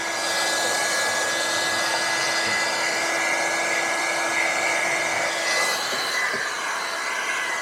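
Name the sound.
heat gun heating film to chase a bubble on Tesla Model 3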